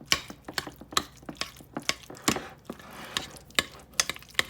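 Egg salad with green onion being stirred together in a bowl, giving a quick run of sharp clicking and scraping strokes in an irregular rhythm, close by and without talk.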